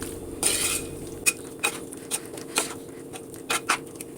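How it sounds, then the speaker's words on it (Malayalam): Ground cumin and green chili paste are stirred into a mixed-grain dish, a spoon scraping and tapping the pan in irregular close clinks, with a soft rustle of moist mixture between the hits. "നന്നായി അതെല്ലാം ഇളക്കി യോജിപ്പിച്ചെടുക്കുക"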